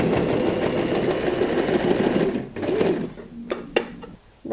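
A sewing machine runs steadily as it binds the edges of a tote bag sewn from curtain fabric, a continuous mechanical whir that stops partway, followed by a few sharp clicks and handling sounds.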